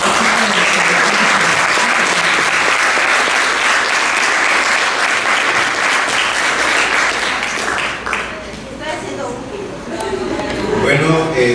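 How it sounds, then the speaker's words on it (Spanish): Loud, dense applause from a seated audience of doctors and students at a university talk, sustained for several seconds before thinning out, with speech emerging over the fading claps. "Les voy a pedir un aplauso para esta."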